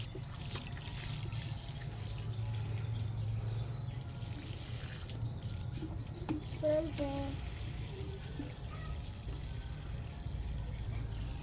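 Water poured and splashing into a container outdoors, a steady broadband wash throughout with faint clinks, while someone speaks briefly.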